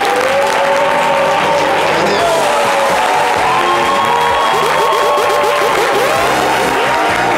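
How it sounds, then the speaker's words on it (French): A studio audience at a midday Ivorian TV show applauds loudly and continuously to welcome a guest, with cheers and whoops over backing music throughout. "Souhaitons tous ensemble, sous fond de musique, lumière et applaudissements, la bienvenue au prodige Didier Yema"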